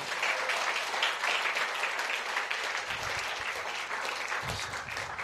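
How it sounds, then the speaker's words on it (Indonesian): Church congregation applauding, a steady, dense burst of clapping from many hands that fills the room and carries on evenly throughout with no talk over it. "Berikan tepuk tangan bagi dia."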